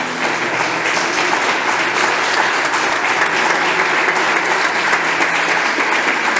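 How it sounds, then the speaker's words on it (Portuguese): A church congregation claps in praise during a Portuguese-language sermon, a dense, steady wash of many hands filling the hall at a constant loud level for several seconds. "Aplauda ao Senhor, podeis assentar,"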